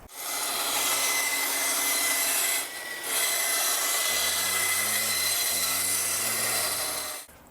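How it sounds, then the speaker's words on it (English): A bandsaw cuts through a wooden electric guitar top, a steady loud rasping whine that runs almost continuously with one brief dip midway, a low tonal hum rising beneath it in the second half before the cut stops. "now let's cut that off on the bandsaw"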